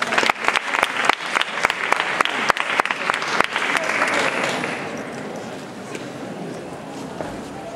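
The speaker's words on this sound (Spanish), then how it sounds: "Un aplauso, Paco." Audience applause for a speaker at a PechaKucha night in Seville, a dense burst of clapping that starts strong and close, then thins and fades over several seconds, with crowd murmur beneath.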